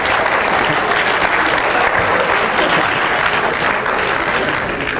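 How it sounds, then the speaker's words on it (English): A live audience at a stage hypnosis show applauds loudly, a thick sustained roar of many hands clapping that fills the whole stretch and eases slightly at the end, with no one speaking over it. "Give him a round of applause."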